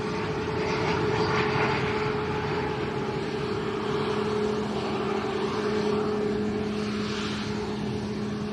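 A Binter ATR turboprop airliner in from Gran Canaria hums steadily at Lanzarote's Arrecife Airport, its constant engine drone carrying a faint whine under a broad wash of noise. The sound stays fairly even, with no voices.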